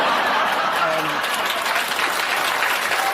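A late-night television studio audience applauds steadily, a dense wash of clapping with a few scattered chuckles mixed in, continuous and fairly loud throughout.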